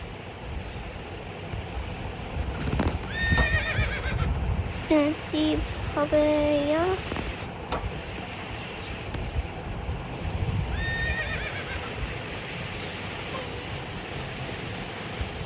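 Minecraft horses whinny in several short, pitched neighs through a video game, with faint game background noise and someone talking at times.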